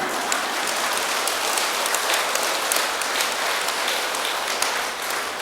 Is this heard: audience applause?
yes